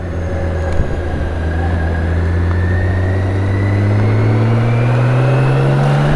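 A BMW K1600 GTL motorcycle engine hums steadily while riding into a corner, its tone rising slowly as the bike accelerates, with loud wind rush over the top and no voices.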